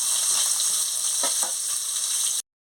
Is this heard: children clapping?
no